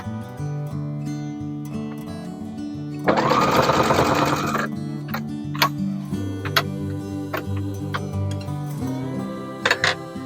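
A sewing machine stitches binding onto a quilt, its needle running in a steady rhythmic chatter with a faster, louder burst in the middle, then slowing to a few spaced clicks near the end.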